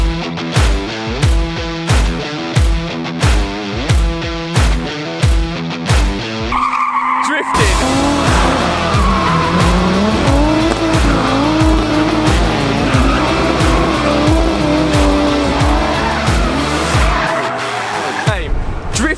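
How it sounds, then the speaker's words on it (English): A BMW M140i fitted with a new limited-slip differential drifts on a full race track. Loud engine revs rise and fall in rhythmic bursts before a sustained wail of engine and squealing tyres runs continuously, close and dominant. "Drifting"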